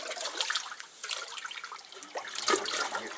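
A sooty cooking pot is swished and rinsed in lake water, with close splashing, sloshing and trickling in irregular bursts.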